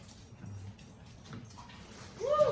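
A dog whimpers while begging for soul-food neckbones, a quiet room first and then one short, rising whine near the end.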